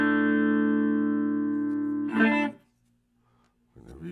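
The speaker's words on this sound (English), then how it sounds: "Let's hear the delay." Clean guitar tone through a small Caline Lorcan amp with the delay engaged: a sustained chord rings for about two seconds, a strummed burst follows, then faint quieter repeats trail off before another strum near the end.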